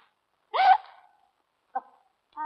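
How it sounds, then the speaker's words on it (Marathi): Three short hiccups from a woman after drinking tea laced with liquor, sharp and close, spaced irregularly with silence between, the first the loudest. "तुला काय झालं उचकी द्यायला?"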